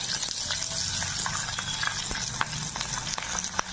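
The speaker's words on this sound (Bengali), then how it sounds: "আমি একটা পেঁয়াজ এভাবে কেটে নিয়েছি, পাপড়ির মতো সাইজ সাইজ নিয়েছি, সেটা আমি হালকা করে ভেজে নেবো" Onion cut into petal-sized pieces frying lightly in a pan, heard as a steady close sizzle broken by scattered clacks and scrapes of stirring, with no voice over it.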